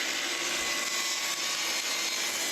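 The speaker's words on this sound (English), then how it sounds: "I'll do that by setting my table saw to 45 degrees and then ripping a bevel along" A table saw set to 45 degrees rips a bevel along the long edge of a wooden board for pub table legs, giving a loud, steady, broadband whine that holds throughout without pause.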